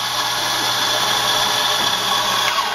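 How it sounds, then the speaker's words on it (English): An espresso coffee grinder grinds beans with a loud, steady, high-pitched motor whir, close and continuous for the whole stretch. "So what we do is we grind it as we need it and we just dose it out until we've got lots."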